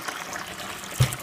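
Water runs into a beer fermenter with sanitiser, a short, close trickling pour with foamy hiss and a brief louder splash near the end.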